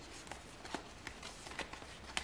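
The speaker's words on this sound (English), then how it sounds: "I did shuffle." Soft papery riffling and light slaps of tarot cards being shuffled by hand, a quiet run of brief flicks close by.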